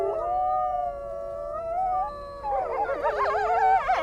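Wild wolves howling in a group, long wavering tones overlapping at moderate distance, then more voices joining in a rising, quavering chorus toward the end.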